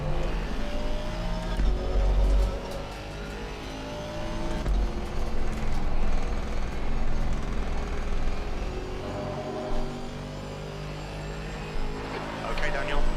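Aston Martin GT4 race car engines at Zandvoort in a sim race, a steady loud droning roar with shifting pitch, cars passing close and fading, under ongoing commentary talk.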